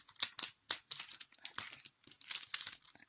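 Small OPP plastic bags in mini size crinkle and rustle as they are handled, a busy run of crisp, close crackles and rustling bursts, fairly quiet, with no talking.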